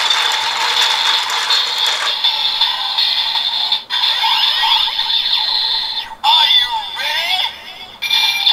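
A Kamen Rider Build DX Build Driver toy plays loud electronic belt sounds and tones as its handle is turned, with ratcheting mechanical clicks broken by brief gaps, and no talking.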